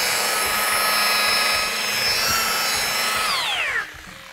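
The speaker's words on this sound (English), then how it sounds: "Let the buffer do the work." An electric power buffer polishes car paint at a car show, whirring with a steady high whine that holds for several seconds before spinning down as the pitch slides away.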